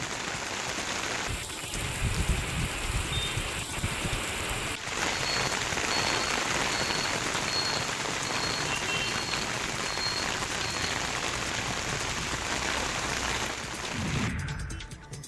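Heavy evening rain pours down steadily in Vasai-Virar, a dense continuous hiss with faint croaking frogs in the background.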